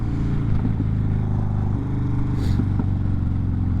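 Harley-Davidson motorcycle engine while riding: a steady, loud, low rumbling drone with slight shifts in pitch and a faint rattle, close and continuous throughout.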